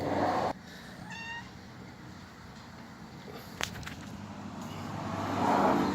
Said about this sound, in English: There's the mama. There's a mama kitty.